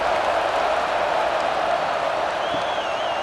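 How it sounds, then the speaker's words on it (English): Stadium crowd buzzing in the College Football 26 video game during a Michigan vs. Nebraska matchup, a steady, dense roar of many voices holding at an even level throughout, with a faint whistle-like tone near the end. "this crowd is buzzing after that last score"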